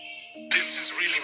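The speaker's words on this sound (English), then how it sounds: "The ancient El Castillo was designed and constructed to echo the sound of a baby jaguar." Handclap echo from the ancient El Castillo pyramid, said to resemble a baby jaguar's cry: a faint tonal hum, then a sudden loud, bright, squeaky chirp that rings on for most of a second.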